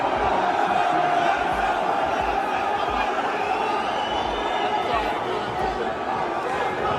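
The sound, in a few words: fight crowd cheering and shouting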